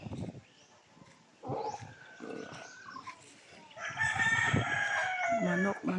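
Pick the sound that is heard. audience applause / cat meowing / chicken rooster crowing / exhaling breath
chicken rooster crowing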